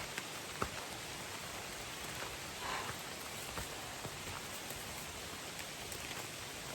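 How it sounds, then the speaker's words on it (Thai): Steady heavy rain falls outdoors on a rural path, a soft even hiss of drops on surfaces, fairly faint and continuous, with a few sharper drips standing out. "ควรไปหาที่หลบฝนก่อน"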